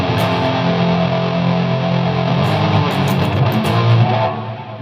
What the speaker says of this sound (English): And we have the distortion there.